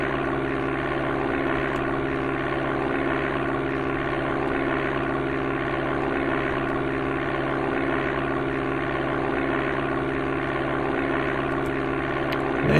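A propeller aircraft engine drones steadily and loud throughout, climbing out after takeoff from Cleveland Hopkins in the Amiga game Flight Simulator II.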